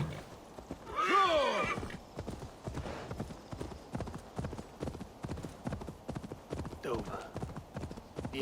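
A horse's hooves clip-clop in a steady rhythm in Assassin's Creed Valhalla, with a loud whinny near the start and another brief neigh later. The sound is close and clear, running against a quiet background.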